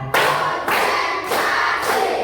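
A class of children claps in a counted rhythm: four sharp, loud bursts of hand claps evenly spaced, with no talk over them.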